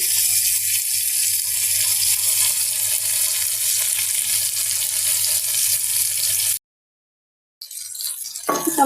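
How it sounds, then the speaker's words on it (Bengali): Sarputi fish fry in hot oil with a loud, continuous sizzle for several seconds, then a brief full silence before the sizzling returns. "মাছগুলো ভেজে নিচ্ছি"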